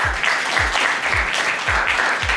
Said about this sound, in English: Round of applause for this house.